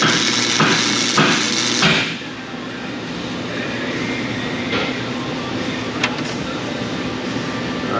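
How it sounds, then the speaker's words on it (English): A welder joining a broken-off strut mount on a Honda frame: loud, crackling broadband hiss at first, then settling into a steadier, quieter sizzle with a few sharp pops. "Let's get our welder in."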